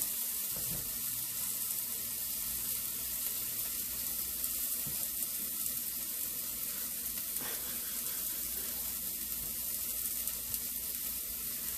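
Shrimp cook in a hot pan for shrimp and grits, giving off a continuous, even frying sizzle that stays close and steady the whole time, with no talking.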